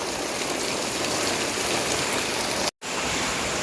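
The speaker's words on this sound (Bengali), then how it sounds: "মজাই লাগে বৃষ্টি দেখে আর আমি বৃষ্টি দেখে দেখে এনজয় করি" Rain falls in a continuous, full hiss close by, broken only by a brief gap near the end, with no voices.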